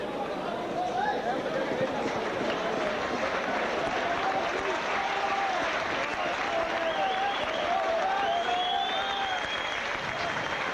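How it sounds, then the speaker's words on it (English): Sustained crowd applause at a St Helens v Oldham rugby league match as a player is substituted, a steady broad wash of clapping from the stands lasting throughout, with faint voices and whistles mixed in. "Plenty of applause for Tony Kay."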